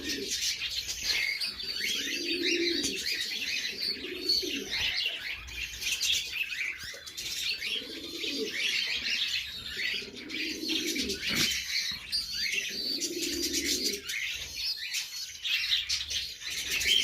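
Nearby pigeons coo in a steady repeating rhythm while chicks answer with high, squeaky begging chirps as they are fed.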